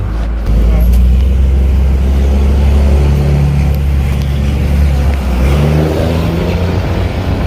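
A 2002 Dodge Ram 2500 diesel pickup with an MBRP exhaust driving, a loud deep engine drone and exhaust rumble heard from inside, with voices over it.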